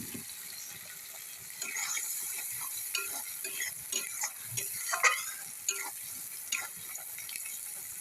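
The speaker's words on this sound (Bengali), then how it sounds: "মশলা বাটা জল দিয়ে আর একটু কষায় নেব" Ground spice paste with water is cooked down in a pan, with a quiet, steady sizzle and scattered scraping and clicking of stirring nearby, no voices present.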